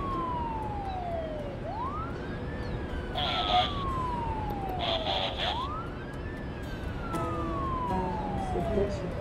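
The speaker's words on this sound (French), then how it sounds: "Il y en a qui s'est blessé, une ambulance, on arrive de suite." An ambulance siren in SimCity wails in repeated rising and falling sweeps, steady and fairly loud over a busy city hum, with brief bursts of another alarm tone between cycles.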